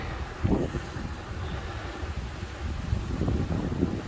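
Wind buffets the microphone in steady gusty rumbles, a low blustery roar throughout with no voices.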